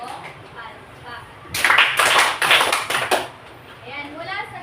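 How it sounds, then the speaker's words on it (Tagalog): Group clapping in a classroom teaching demonstration: three bursts of applause-like claps over about a second and a half, loud against quiet room noise, with faint voices before and after. "Bigyan nga natin si Zaylia ng 3 palakpak."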